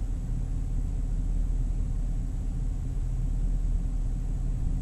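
A 2016 Camaro SS engine idles in tour mode, a steady low rumble with an even, continuous drone and no revving.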